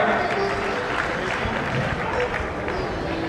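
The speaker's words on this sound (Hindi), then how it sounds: "एक बार तालियां बजाकर फिर जोरदार तालियां" Audience clapping at a Jain monk initiation ceremony in Vijay Nagar, Indore, applauding a two-time member of parliament; dense, steady applause fills the hall with crowd murmur mixed in.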